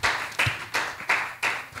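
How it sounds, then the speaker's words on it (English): A church congregation clapping hands in a steady rhythm of five sharp claps, loud and near, with no talk over them. "Somebody clap your hand and tell the Lord thank you if you will."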